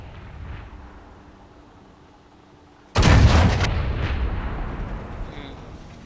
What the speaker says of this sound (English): He tries for a blind shot to the Hellcat.